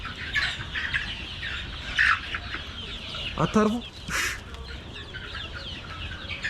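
Chickens on a chicken farm cluck and squawk close by in a busy, overlapping chorus, with a short spoken phrase partway through.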